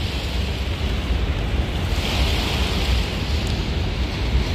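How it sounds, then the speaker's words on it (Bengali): Winter waves on a river in North Malda where several hilsa fishing boats work, giving a steady broadband wash with wind buffeting the microphone, loud and continuous, with no voices. "ঢেউ দেখুন"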